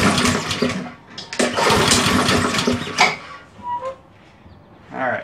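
Repeated pull-cord yanks on a Honda HRS216 lawn mower with a faulty throttle that will not reach choke, each rough whirring, sputtering burst loud and close, separated by short pauses, with the engine never catching.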